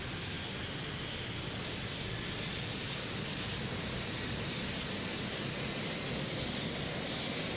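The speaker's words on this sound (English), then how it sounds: "Monitor the turbine start, using its RPM and EGT gauges." Pucara turboprop turbine engine spooling up during a cold start in a flight simulator, a steady, dense roar with a faint rising whine running continuously and loud throughout.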